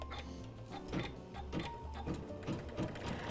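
An embroidery machine stitches to secure fabric fringe, giving a steady, close rhythmic ticking and whirring with regular needle strokes at an even pace.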